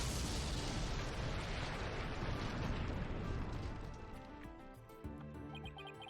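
A bomb blast in Ace Attorney: Dual Destinies, a loud, broad explosive rumble filling the opening seconds, then decaying into a fading roar with a small crackle near the end.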